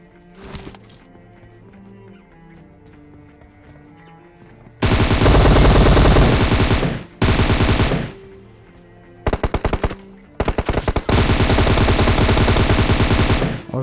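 Automatic gunfire in the PUBG Mobile battle game, long loud bursts of rapid shots separated by short pauses, after a quieter stretch of background game sounds.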